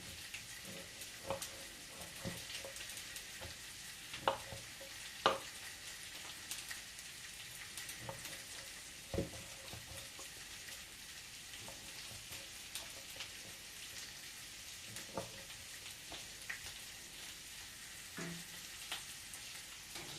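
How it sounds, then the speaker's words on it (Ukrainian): Pork liver and pieces of fresh pork frying together in a skillet, giving a soft, even crackle with scattered sharper pops, fairly quiet and steady throughout. "повертаємося знову туди в сковородку, бачите, обсмажується все"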